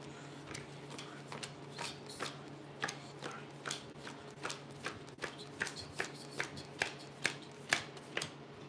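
Tarot cards being shuffled and cut by hand, giving a steady run of crisp riffling snaps that speed up and grow louder toward the end, close up, with no talk over them.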